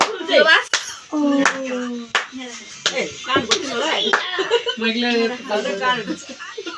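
Several sharp hand claps ring out close by, mixed with casual chatter and laughter from people nearby.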